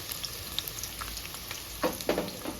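Onions dropped into hot oil in a kadai for a Telugu-style broad bean curry give a faint, steady sizzle with small crackles, then a couple of louder stirring scrapes near the end, with no talk.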